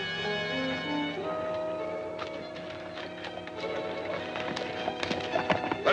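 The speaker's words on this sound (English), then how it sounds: "Take the horses to the ranch, and we'll ride the coach into town." Horses clip-clopping while pulling a stagecoach in an old western, steady hoof beats growing busier and louder toward the end over a sustained music bed.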